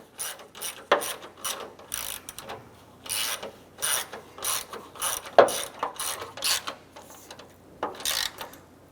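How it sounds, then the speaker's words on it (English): A ratchet snugs down small bolts while a bumper shock absorber is installed on a 2006-2013 Chevrolet Impala. It gives bursts of rapid clicking with short pauses between strokes, close and clear, with no talking. "Let's go ahead and snug down the small bolts here."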